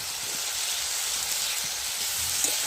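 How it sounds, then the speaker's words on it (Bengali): Turmeric powder fries in a pan with a steady, bright sizzle and hiss, close and continuous, with faint crackles underneath and no voices. "হলুদ গুঁড়ো একটু ভালো করে ভেজে নেবেন"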